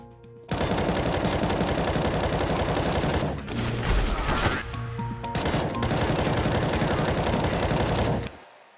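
Sustained rapid automatic rifle fire in CS:GO while moving, loud and close, running in long continuous bursts with a couple of brief breaks.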